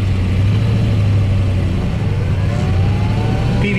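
A fuel-injected 1963 Corvette pulls away from a standstill, its engine loud and close, a steady low rumble with rising revs toward the end, no voices over it.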